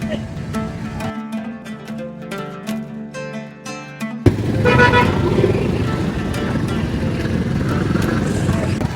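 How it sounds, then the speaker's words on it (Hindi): Car horns toot repeatedly in short bursts over the steady drone of jammed city traffic with rickshaws in Sindh, Pakistan, loud and close, with engines and street bustle filling the background. "अभी आप देख सकते हैं कि यहाँ पर ट्रैफिक जो है अब जाम हो चुकी है और रिक्शास वगैरह जो है ना वो रोड ब्लॉक कर देते हैं"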